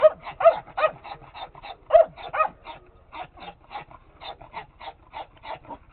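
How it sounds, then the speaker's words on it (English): A dog barks in a quick series of sharp, yippy barks mixed with whining, close by and without talk. "you did learn to bark from those boys"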